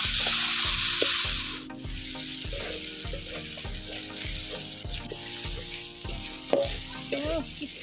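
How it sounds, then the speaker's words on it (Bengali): Marinated chicken for a homemade chicken curry fries in a hot kadai, a steady bright sizzle running throughout with repeated metallic scrapes and knocks of a stirring spoon; no one speaks. "এবার এই ম্যারিনেট করে রাখা মাংসটা কড়ার মধ্যে দিয়ে দেব, দিয়ে এটা ততক্ষণ কষতে থাকবো যতক্ষণ না মাংস থেকে তেল ছাড়ছে।"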